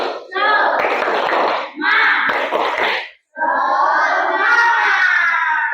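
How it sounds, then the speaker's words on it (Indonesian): A school class chants loudly together in the clapping cheer tepuk semangat, with three bursts of group voices and hand claps separated by short pauses. "kita tepuk semangat terlebih dahulu biar lebih semangat belajarnya"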